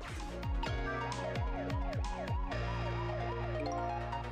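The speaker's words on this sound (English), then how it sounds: "Do I want to put the siren on?" A loud electronic siren in the video game Ghost Trick wails in rapid repeating up-down sweeps, then settles into a steadier tone, continuous and close with no talking.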